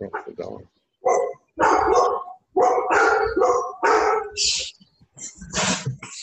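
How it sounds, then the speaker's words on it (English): A dog barks and howls loudly nearby during a livestreamed service, with yelps and drawn-out howling mixed with human voices. "Somebody's dog."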